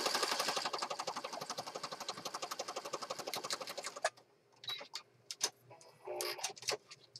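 A sewing machine zigzag stitches through many layers of paper and fabric for a junk journal envelope, a rapid, even ticking rattle for about four seconds, then it stops and faint handling noises follow.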